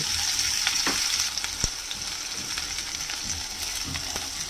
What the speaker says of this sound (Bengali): মৌরিটা একটুখানি জাস্ট ভাজা হবে।